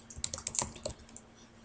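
Brisk typing on a computer keyboard while entering a user password during an Ubuntu 12.04 installation, a quick burst of about a dozen close, light key clicks that taper off after a second.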